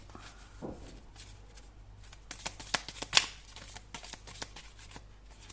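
Tarot cards shuffled by hand before one is drawn, giving a run of soft riffling flutters and crisp snaps that peak midway, close and quiet, without any speech.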